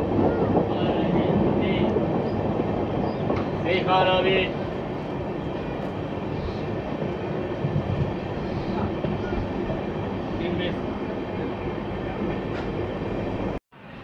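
Onboard the Kolkata-Sairang Express approaching a junction, a steady loud rumble of wheels and carriage fills the whole stretch, broken by brief squeals and clanks, before cutting off abruptly near the end.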